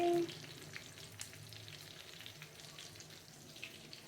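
Fish coated in masala frying in a kadhai, a steady crackling sizzle with occasional pops and light stirring, heard close and alone without talk.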